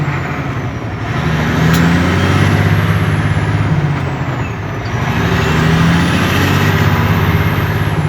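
Freightliner truck with a Detroit diesel, EGR disabled, labouring up a hill: a loud, steady low engine drone with a rising and falling pitch as it pulls through the gears, continuous and close, no talk.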